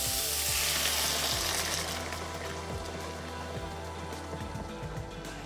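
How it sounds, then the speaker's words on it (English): Vegetable stock poured into a pot of cooking tomato soup, giving a loud hissing sizzle at first that settles into a steady, quieter bubbling fry, close and continuous with no voices. "Now I'm going to add the vegetable stock."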